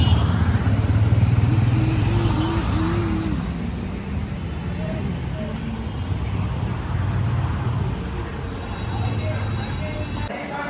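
Honda CB 125 Hornet motorcycle with an oil leak, its engine running steadily and close by as a continuous rough drone, with voices talking over it throughout.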